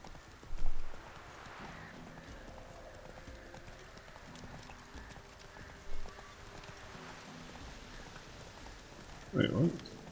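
Hooves of Roach, the horse in the video game Witcher 3, clip-clopping at a steady walking rhythm against a soft ambient bed, with a few louder thumps and a short burst of speech near the end.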